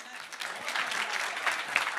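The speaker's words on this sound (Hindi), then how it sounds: "ताली बजानी चाहिए।" A studio audience at a televised political debate claps, a short burst of dense, fairly quiet applause with no voices over it.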